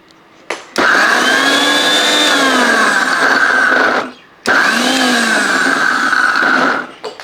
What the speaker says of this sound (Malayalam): ഇനി ഇത് നല്ലപോലെ ഒന്ന് അരച്ചെടുക്കണം അപ്പോൾ ഇത് നമുക്ക് ചെറുതായിട്ടൊന്ന് പൊടിച്ചെടുക്കാം